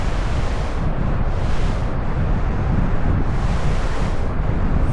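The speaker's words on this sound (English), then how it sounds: "At Island Beach State Park, and it's windy" Strong wind roars continuously at Island Beach State Park, buffeting loudly with gusty surges, mixed with the wash of surf on the beach.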